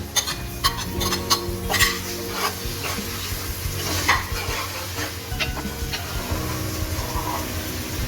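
Steady sizzling of garlic and ginger paste frying in hot oil, with a spoon repeatedly scraping and stirring against the pan, close up and continuous.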